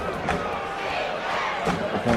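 A home crowd at a basketball game cheers and roars steadily, with a few louder bursts and thumps rising from the din.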